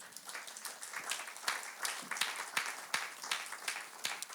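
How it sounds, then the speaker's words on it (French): A church congregation claps through an online worship service, steady overlapping applause with sharp individual claps in an irregular rhythm, fairly close and continuous. "Acclamons très fort le Seigneur."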